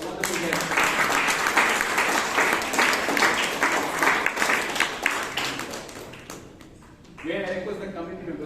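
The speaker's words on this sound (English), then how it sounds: "let us give them a round of applause for a wonderful guest" Applause from a Toastmasters club meeting in Bangalore fills the room for standing guests, dense steady clapping that thins out toward the end, with a murmur of voices underneath and a brief renewed burst at the close.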